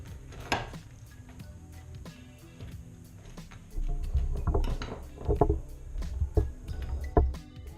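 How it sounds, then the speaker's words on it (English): Gluten free Thanksgiving stuffing is stirred in a baking dish, with close intermittent spoon scrapes, clinks and soft knocks that grow busier and louder partway through. "Kind of stir that a little bit"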